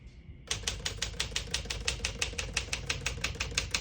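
A 1957 Smith-Corona Silent-Super portable typewriter is typed on close up, giving a rapid, even run of sharp key strikes after a brief quiet start.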